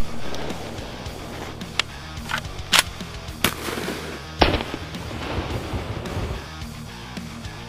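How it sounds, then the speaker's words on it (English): Sharp shotgun blasts of birdshot strike an alien Xenomorph head replica, several loud cracking reports spaced irregularly over a rustling outdoor background, with no talking. "now we've shot the alien with the birdshot"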